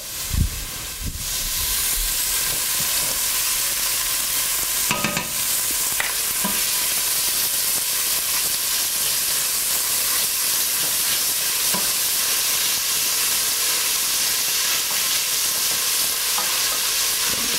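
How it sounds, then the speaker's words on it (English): Butter sizzling in a pan while curried goat cooks, a loud, continuous close hiss after a few initial clunks, with occasional stirring knocks and no voices. "I'm going to add a little butter."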